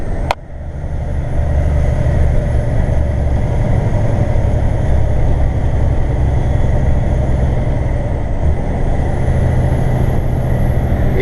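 A truck engine drones loud and steady with its automatic gearbox dropping two gears, down toward fifteenth and thirteenth, with only a slight shift in tone late on; no talking.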